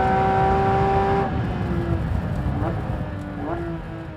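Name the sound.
Porsche 911 GT3 RS driving on race track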